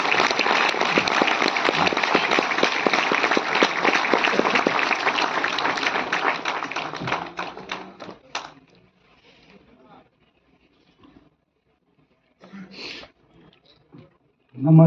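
Loud, dense applause from the audience at a Delhi programme of the Indian Railways goods-shed workers' union fills the first eight seconds, then fades out. Afterwards a voice speaks with brief pauses.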